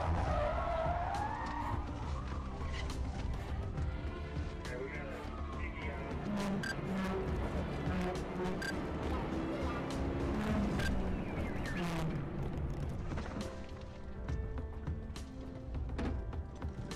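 During a police pursuit, a police car performs a high-speed pit maneuver and the cars skid and crash: tires squeal and screech repeatedly over roaring engines, with voices mixed into the loud, continuous chaos.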